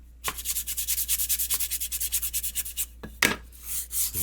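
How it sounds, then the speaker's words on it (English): Steady back-and-forth rubbing of sandpaper along a wooden edge in a carpentry shop, close and fairly loud, with regular strokes and a brief pause before a sharper scuff. "Sand that down a little bit on that edge"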